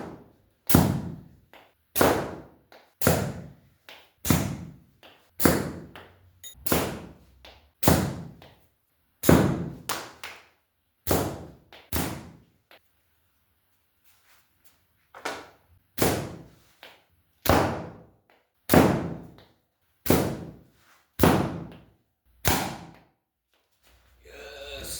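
A homemade slingshot sends shot after shot into a target, each hit a close, sharp thwack with a brief decay. The hits come in a steady series of about twenty, with one quiet gap partway through.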